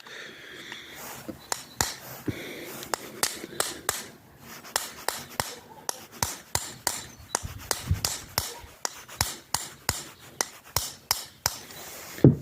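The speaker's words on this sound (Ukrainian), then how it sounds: "Наносимо зовсім легенькі удари, тим більше в нашому випадку, коли звичайний молоток, а не резинова киянка" A long series of light, sharp metallic taps from an ordinary hammer on a piston ring of an IZh Planeta motorcycle engine, at a fairly steady rhythm, close by, with faint background noise between strikes.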